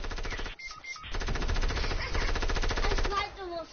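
Rapid gunfire in a multiplayer shooter, dense repeated reports filling most of the clip with a brief gap near the start, heavy and continuous under excited voices.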